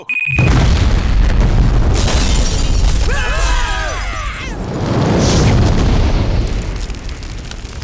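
A heavy, loud bomb explosion booms and rumbles on, with a brief tonal flourish in the middle before the roar swells again.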